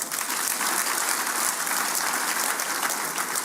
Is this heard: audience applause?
yes